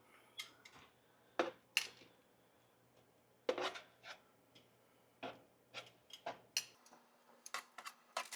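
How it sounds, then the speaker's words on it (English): Vegetables being flipped and stirred in a pan while toasting, with soft scattered scrapes, clinks and taps of a utensil against the cookware, quiet and irregular over a faint hum. "it's time to check the veggies and give them a flip"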